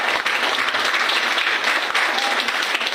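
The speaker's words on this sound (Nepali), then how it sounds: "रामकृष्ण महतोको लागि जोरदार ताली बजाइदिनु होला" Applause for Ramkrishna Mahato at a gathering, a dense, continuous burst of clapping from a crowd lasting a few seconds, loud and close.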